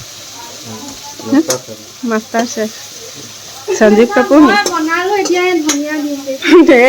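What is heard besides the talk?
brinjal and pointed gourd frying in pan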